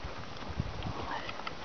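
Hooves of a ridden horse thud softly in a steady clip-clop rhythm on an arena surface, fairly faint and alone.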